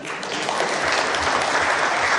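Audience applause at a public hearing on the Jakarta Health Card with the Jakarta governor, a steady dense wash of clapping that stays loud and even throughout.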